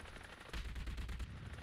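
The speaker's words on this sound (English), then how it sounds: "Okay, they're shooting at you. Something's shooting at you." Bursts of rapid machine-gun fire aimed at a player's vehicle in the combat game War Thunder, loud and close, starting abruptly partway through and rattling on in dense repeated volleys.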